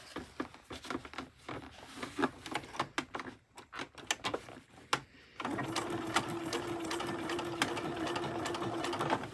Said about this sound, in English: Because what we're doing is stitching that seam down.